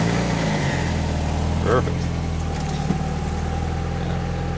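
Cold 1991 Mazda Miata MX5 engine idling steadily nearby, an even low hum heard under a voice.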